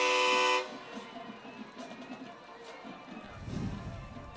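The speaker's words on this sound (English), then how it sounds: "And Andulusia has a train horn just like we do, Bob." A loud, brassy train horn blares at a high school football game, Andalusia Bulldogs at Navarre Raiders, then cuts off, leaving faint crowd murmur and a distant announcer-like voice underneath.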